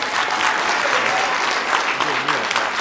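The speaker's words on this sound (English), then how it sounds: "let's give your parents a big round of applause for all they do for us" A packed middle-school winter band concert crowd gives the parents a round of applause. Thick, continuous clapping and cheering swell evenly for about three seconds, with a faint voice underneath.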